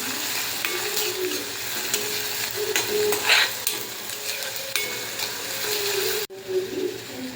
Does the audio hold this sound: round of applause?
no